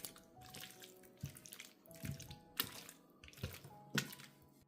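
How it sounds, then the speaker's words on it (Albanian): Water poured into a pot of peas and meat, heard as a few separate splashing pours with gentle drips and gaps between them, close and fairly quiet, with no talking. "Vazhdojmë tani që ta mbulojmë me ujë."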